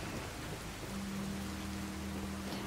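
Steady rain in the video game Fallout 4 hisses evenly across the whole stretch, with a low constant tone humming underneath and no talk.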